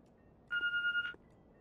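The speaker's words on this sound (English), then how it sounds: "Let's go pick up the phone." A telephone rings once in The Walking Dead video game: a short, bright electronic trill of about half a second that stands out against near silence.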